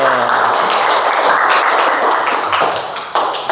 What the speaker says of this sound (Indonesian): jadi tepuk tangan semuanya dulu ya